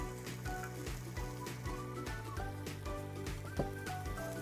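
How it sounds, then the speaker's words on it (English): Broccoli hisses and sizzles steadily in a hot pan while it is stirred, with faint scraping and a soft, constant fry running underneath, no voices. "Give it a good stir"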